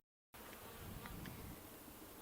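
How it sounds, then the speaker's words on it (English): Bees inside a hive give a steady, dense buzzing drone that starts abruptly after a brief silence and holds evenly, with no voices. "There's plenty of bees in here."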